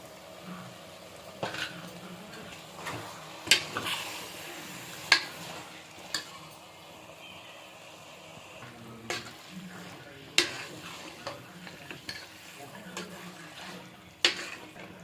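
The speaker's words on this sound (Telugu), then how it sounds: "ఉప్పు పసుపు బాగా ముక్కలు పట్టే వరకు కలుపుకుందాం." Mutton mixed with salt and turmeric is stirred in a pan, giving a soft sizzle broken by irregular clacks and scrapes of the spoon against the metal, close and fairly quiet.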